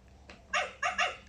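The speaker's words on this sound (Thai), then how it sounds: "มีเสียงหมาด้วยเหรอเปียโนนี้" Three quick electronic dog barks from a toy, the last two close together, over a faint steady hum.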